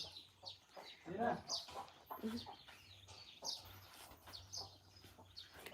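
Chickens cluck and squawk in repeated short bursts near a captive elephant's enclosure, with people talking over and between the calls.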